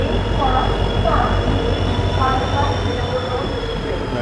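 A passenger train runs toward Shoranur Junction in Kerala, a loud, steady rumble of wheels on rails heard from on board, with a continuous high metallic whine and faint rhythmic clatter and no break.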